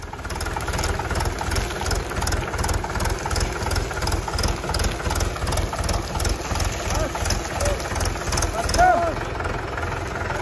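Mahindra 575 or Arjun 605 tractor engine idling at a weight-pulling contest: a close, steady low diesel chug with an even knocking rhythm, with people talking faintly underneath.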